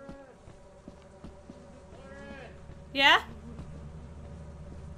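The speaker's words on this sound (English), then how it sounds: "There's bees." Bees in the video game Lethal Company give a faint, steady insect buzz beneath game ambience, while a player talks briefly over it.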